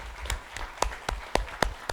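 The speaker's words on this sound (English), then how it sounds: "I want us to give her a very big round of applause." Applause from a conference session audience, heard as a handful of separate sharp claps spaced through a quiet room rather than a full ovation, with no talking.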